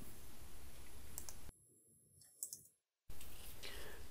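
Computer mouse clicks on a login page, a few quiet, crisp clicks, near and isolated, with a short silent gap and faint background hiss.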